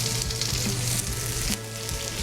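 Green beans sizzle steadily in a hot pan with salt and pepper, a loud, close, continuous frying hiss with occasional soft clatters as they are tossed.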